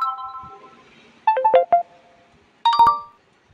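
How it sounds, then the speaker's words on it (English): A phone ringtone preview for Instagram message notifications plays close and clear as a short electronic melody, with a soft tone at the start, a quick burst of chiming notes, a pause, and then a final chime that fades out. "So what I'm doing is I'm setting it to a new tone."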